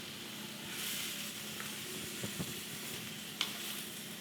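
Chopped vegetables, including tomato and carrots, sizzle steadily in a hot pan, with soft scrapes and a couple of sharp clinks as they are stirred around.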